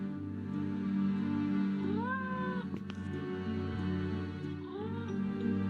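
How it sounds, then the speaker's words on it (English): Two drawn-out cat meows with rising, wavering pitch in the video game Nancy Drew: Mystery of the Seven Keys, heard over a steady low hum, clear and fairly close. "Is that a cat meowing?"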